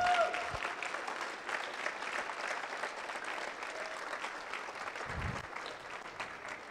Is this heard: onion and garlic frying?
no